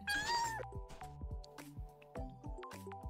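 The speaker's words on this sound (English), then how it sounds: "They also make feral cat noises." A ferret in a video game makes feral cat-like noises: a short yowling meow at the start, then a string of soft, wet, squishy clicks and drips in a quiet setting.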